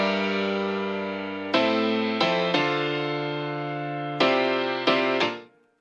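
Happy hardcore chord progression on a bright, sustained synth, several chords changing in steady succession, loud and alone, cutting off abruptly at the end.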